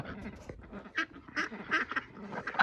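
Peking ducks quack in a quick series of close, nasal calls on a farm, several birds overlapping in an irregular chatter.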